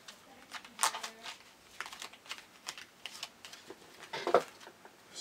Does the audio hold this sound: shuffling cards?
yes